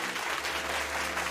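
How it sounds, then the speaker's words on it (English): Steady, dense applause from a podcast audience, continuous clapping throughout with no talking over it. "everyone give a round of applause for Mojang"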